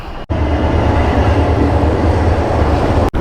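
A train rolls past a rail crossing signal on a Dhaka city route, a loud, steady rumble of wheels and carriages that holds close and unbroken throughout, with no voices.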